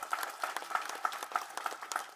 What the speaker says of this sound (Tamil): ஸோ முதல்ல அவங்க 2 பேருக்கு நம்ம முதல்ல கைத்தட்டி பாராட்டு தெரிவிச்சுக்கலாம்.